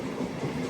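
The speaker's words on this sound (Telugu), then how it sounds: "మన ట్రైన్ కదిలింది." A MEMU passenger train on the Anantapur–Bengaluru route rumbles steadily as it starts to move, a continuous low rolling noise with faint rail clatter, close and unbroken.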